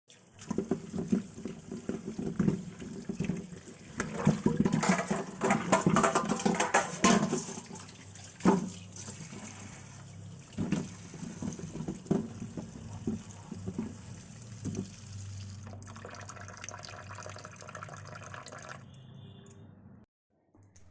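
Peeled beetroot and carrots are rinsed under running water, with splashing, pouring and dripping at uneven strength that turns into a steadier stream of filling water near the end before it stops.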